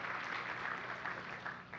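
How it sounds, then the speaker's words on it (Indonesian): A church congregation claps together during a worship service, with steady, dense applause sustained throughout at moderate volume. "Kita boleh kasih tepuk tangan buat kemuliaan nama Tuhan."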